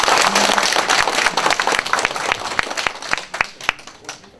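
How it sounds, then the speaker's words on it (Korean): Crowd at a political supporters' group launch ceremony applauds, dense clapping that thins into a few sharp, distinct claps near the end. "자, 박수 서로."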